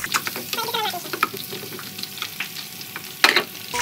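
Green capsicum sautéing in a pan for pasta mayo gives a light, uneven sizzle with scraping stirs and a sharper clatter of utensil on pan near the end.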